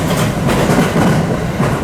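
A JR 225 series 5000 commuter train on the Kisei Line toward Wakayama gathers speed, a loud continuous rumble and rail clatter heard from inside the car, steady and unbroken.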